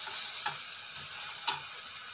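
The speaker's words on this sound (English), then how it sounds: "Here goes in the jeera powder. Just give it a little stir." Jeera powder is stirred into mutton masala in a pepper fry, sizzling softly in the pan with a continuous frying hiss and two faint spoon scrapes, no talk.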